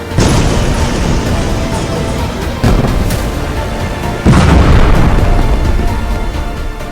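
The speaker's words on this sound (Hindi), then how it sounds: "बेरूत में 200 धमाके" A series of heavy, rumbling blasts from airstrikes in Beirut, with three loud booms rolling one after another through dense, roaring low-end noise.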